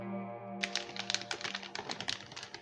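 Blade slicing open the plastic bag holding a 1/72 scale Italeri UH-60 Blackhawk model kit's sprues: a quick run of close, crisp crackling and snapping plastic over a faint low hum.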